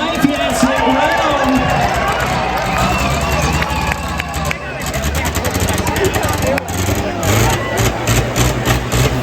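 Stunt car engine at Western Speedway cranking over and restarting after a rollover stunt, loud close mechanical churning and revving under a noisy crowd, with sharp bursts and sputters as it catches.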